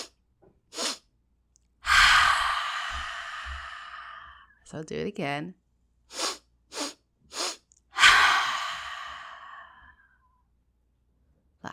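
Seated breath of joy breathwork: after a long audible exhale and a short spoken remark, three quick sniffing inhales follow in steady succession, then a long, strong breathy exhale, all close to the mic.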